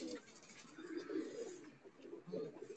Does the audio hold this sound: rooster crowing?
no